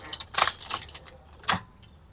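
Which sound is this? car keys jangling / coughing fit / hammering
car keys jangling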